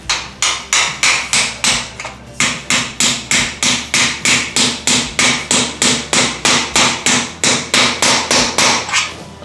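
Impact screwdriver struck repeatedly with a hammer while fixing a metal stud framework for kitchen walls: a loud, close series of evenly spaced sharp metallic blows, about three per second, continuing without pause.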